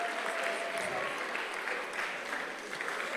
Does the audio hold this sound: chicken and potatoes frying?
no